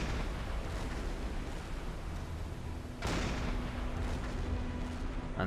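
Deck gun fire on a ship in Silent Hunter 5, heard as a sharp broadband blast near the middle that rings out over a steady background of sea and engine rumble.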